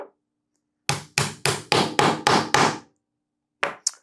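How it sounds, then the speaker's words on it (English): A hammer taps a wooden tenon into its mortise in a quick run of six sharp, evenly spaced knocks, followed after a pause by two lighter taps, all close and alone in a quiet room. "And then I can tap it into place with my hammer."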